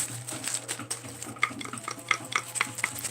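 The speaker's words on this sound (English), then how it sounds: "Sounds like wooden spoons." Wooden spoons rattling inside a mail package as it is handled: a dense, continuous clatter of light wooden knocks and taps, close and moderately loud, with no talking.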